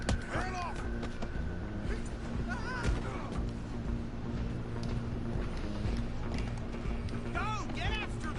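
Rhythmic hoofbeats of a galloping horse in Red Dead Redemption 2 pound beneath overlapping shouting voices and game action noise, steady and fairly loud throughout.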